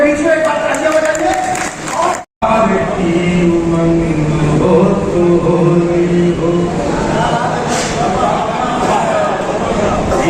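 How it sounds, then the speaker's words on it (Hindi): An audience at a Holi poetry gathering in Kanpur bursts into applause, a sustained wash of clapping and crowd noise lasting several seconds while someone speaks over it. "आप सबकी तालियों के बीच में एक बार तालियां बजाइए।"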